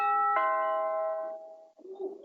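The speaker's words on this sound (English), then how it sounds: "And now we can have a try with our doorbell." A smart-home doorbell chimes once, a clear sustained bell tone with bright harmonics that decays over about a second, followed by a short burst of quieter music.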